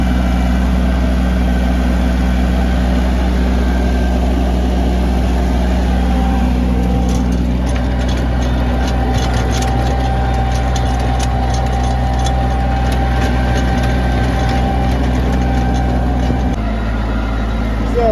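A Japanese tractor runs a rotary tiller with a loud, close, continuous low engine drone, its steady rumble shifting slightly and softening near the end, while faint clatter rises in the middle.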